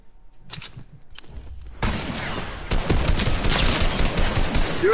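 Assault rifle gunfire in a PS4 shooter game: a few scattered shots, then sustained rapid automatic bursts that grow louder and denser, rattling continuously with no talk over them.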